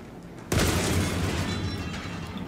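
A single loud cannon blast from Helldivers 2 destroying a security camera, a sharp booming hit followed by a long rumbling decay, close with no talk.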